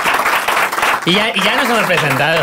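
Audience applause for a guest on a Spanish comedy podcast, a broadband clatter that runs under someone speaking and continues as he talks over it.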